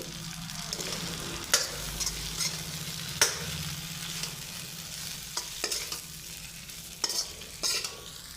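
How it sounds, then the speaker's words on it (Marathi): Peanut powder made from roasted peanuts is stirred into a Kolhapuri-style drumstick (shevga) fry, a steady low sizzle broken by sharp clinks and scrapes of the spoon against the pan every second or two, close up and with no talk. "आता या स्टेपला आपण एक वाटी भाजलेल्या शेंगदाण्याचा कूट याच्यामध्ये घालायचा आहे आणि सगळं मिक्स करून घ्यायचं आहे"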